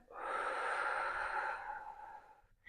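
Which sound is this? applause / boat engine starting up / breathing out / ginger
breathing out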